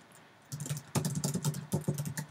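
Typing a comment on a computer keyboard, a quick run of close, distinct key clicks in short bursts, with no talking over them.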